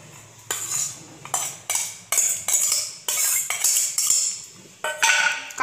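A spoon is worked through grated coconut and ground mustard seed and cumin in a bowl, giving about eight sharp, evenly spaced scraping strokes up close with no talking.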